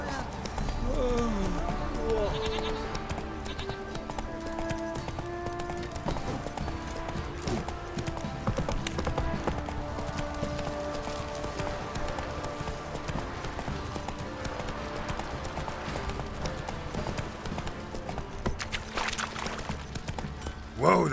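Hooves of the horse Roach galloping in The Witcher 3, a steady rapid clip-clop running throughout at moderate level, with game voices talking over it.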